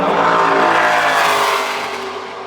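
A NASCAR Xfinity Series race car on a qualifying lap at Phoenix roars loudly through turns 3 and 4. Its engine note holds strong, then gradually fades as it passes.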